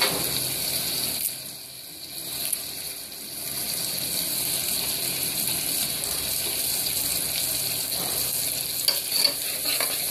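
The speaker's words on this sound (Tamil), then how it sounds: "போட்டு நல்லா கிளறி விட்டுக்கோங்க." Ground spice powder, curry leaves and coriander stirred in a frying pan for brinjal curry, a continuous close sizzle with repeated scraping and clicking of the spoon against the pan.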